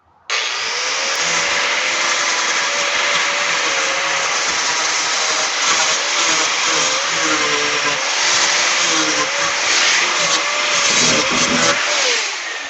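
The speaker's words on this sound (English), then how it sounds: "I have a flap disc on my grinder." An angle grinder with a flap disc runs continuously against the metal cab corner of a Chevrolet C10 truck, a loud, close, steady high whine with slight wavers in pitch as pressure changes.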